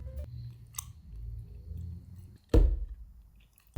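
Someone chews German food right at the microphone, with soft, low mouth sounds broken by a couple of sharp, crunchy bites.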